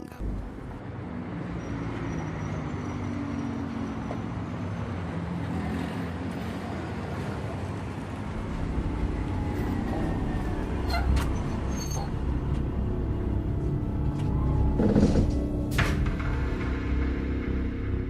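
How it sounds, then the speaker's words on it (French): A coach bus engine rumbles low and dull as it manoeuvres outside a courthouse at night, growing louder partway through, with a brief hiss near the end. "on entend le bruit sourd du moteur d'un autocar qui vient rompre le silence apparent autour du palais de justice"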